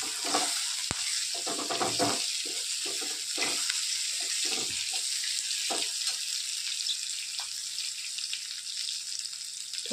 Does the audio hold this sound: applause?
no